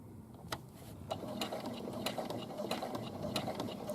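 A sewing machine stitches a patch pocket, a quiet close run of rapid clicking and ticking mechanism sounds, heard alone without talk.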